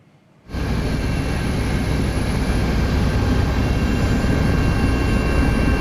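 Helicopter of the Basarnas search and rescue agency evacuating injured flash-flood victims from isolated Palembayan, West Sumatra: after a brief quiet moment a loud, steady rotor and engine roar sets in close by and holds.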